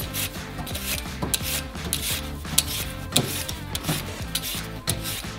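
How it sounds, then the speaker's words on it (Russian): Skin being peeled off potatoes for homemade chips, a close, steady stream of rapid scraping strokes with rhythmic rasping texture, no voices. "Итак, очищаем картошку от кожуры."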